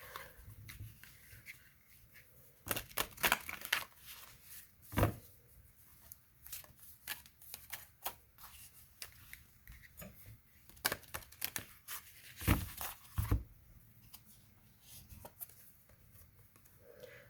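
Tarot cards being shuffled and drawn, with quiet bursts of riffling and flicking in irregular clusters, several sharper snaps of cards slapped down, close and soft against a near-silent room.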